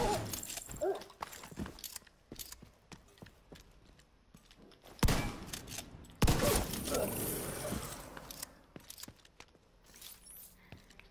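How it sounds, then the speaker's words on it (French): Point-blank shotgun blasts in The Division land as two heavy, loud bursts midway, amid scattered clicks, footsteps and softer game noise. "au fusil à pompe, à bout portant, je rate"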